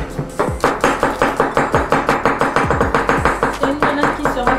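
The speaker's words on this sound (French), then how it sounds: "Le temps pour moi d'hacher l'ail." A knife chopping garlic on a board in quick, even strokes, close and crisp, about four sharp taps each second in a steady run with no talking.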